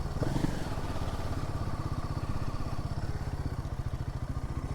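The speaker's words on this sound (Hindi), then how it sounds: "बाइक आगे लगा देते हैं।" A Royal Enfield Himalayan 450 motorcycle idles with a steady, close, rhythmic low thump as it is moved forward, the even engine pulse continuing throughout with no one talking.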